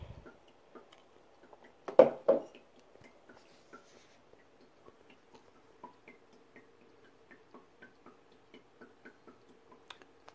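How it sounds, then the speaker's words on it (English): Filtered water drips steadily through a Clearly Filtered gravity filter, small quick ticking drops at an even pace, faint and close, with a brief louder splash near the start. "So it's got a really fast drip in it."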